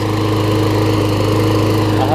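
Craftsman self-propelled lawn mower with a Tecumseh engine, running at a loud, close, steady drone with an even buzzing hum, someone speaking over it.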